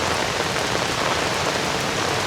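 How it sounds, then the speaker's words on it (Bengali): Heavy rain pours in a rural village where jute is grown after a long dry spell, a thick steady roar of water on surfaces filling the whole stretch with no voices. "এটা একবারে যাকে বলা যায় কঠিনভাবে বৃষ্টি হচ্ছে।"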